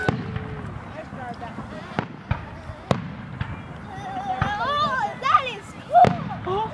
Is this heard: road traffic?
no